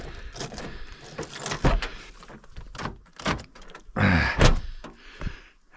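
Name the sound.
doors being opened at a camp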